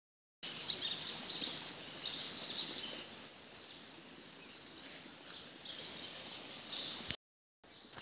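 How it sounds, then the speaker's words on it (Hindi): Birds chirp and twitter steadily in the quiet Uttarakhand hills, a continuous layer of small high calls over a soft, broad wash of background sound that cuts off abruptly near the end. "शांत माहौल में आपको चिड़ियाओं की चहचहाट बहुत अच्छी लगती है"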